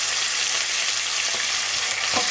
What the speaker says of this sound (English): You can hear that sizzle now, that's what you're looking for.